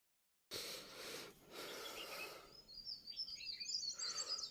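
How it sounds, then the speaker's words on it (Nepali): Small birds chirp and twitter in a village setting among tea bushes and banana plants. The calls are quiet and somewhat distant and come in the second half, after a muffled rushing, breathy noise. "चराचुरुङ्गीहरू पनि धेरै रमाइरहेको छ।"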